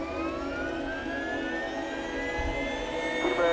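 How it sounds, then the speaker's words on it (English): A helicopter engine running at Tulsa gives a steady, fairly faint turbine whine with slowly rising high tones over a constant low rumble, heard alone without speech. "every time I get in and fire up the engine"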